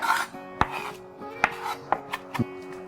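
A knife strikes a cutting board in sharp, uneven chops through vegetables and herbs, about six or seven clear knocks, close by with no one talking.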